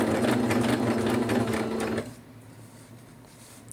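A sewing machine stitches fabric in a loud, continuous close-up whir for about two seconds, then stops, leaving quiet room tone and a tiny click at the end.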